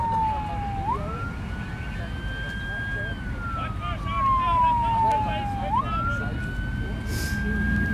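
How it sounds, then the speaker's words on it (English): Police sirens wail and sweep up and down in pitch, rising in loudness as they approach along a street during a Christmas bus parade for kids, with steady traffic rumble and crowd noise underneath. "You can hear the sirens getting louder."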